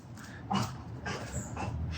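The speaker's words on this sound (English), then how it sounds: "there's a pit bull next door. He likes to bark at her." A pit bull barks and yips a few times next door, short sharp bursts over a low background hum.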